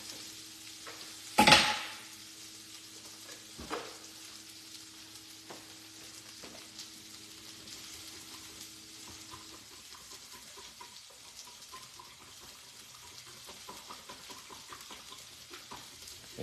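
Cornstarch being mixed into steak and vegetable lo mein in a pan, a loud scrape near the start, then a soft, steady frying hiss with faint intermittent stirring scrapes, no talking.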